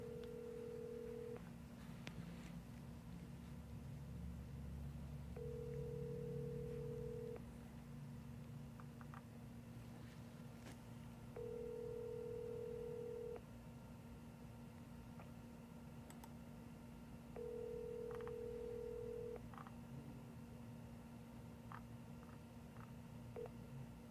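Phone call over speakerphone: a ringback tone pulses in four evenly spaced two-second bursts, moderately loud over a steady low hum, with faint ticks between rings and no talking.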